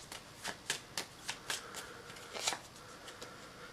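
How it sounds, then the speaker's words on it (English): A deck of cards is shuffled with a soft riffling flutter, a series of quick papery snaps in a quiet room, close and fairly faint. "I will shuffle the green deck."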